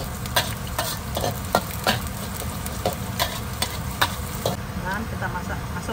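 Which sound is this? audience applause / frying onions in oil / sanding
frying onions in oil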